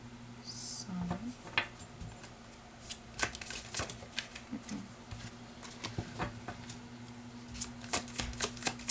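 Tarot cards are shuffled close by, with soft riffling and flicking patter in irregular bursts over a faint background hum.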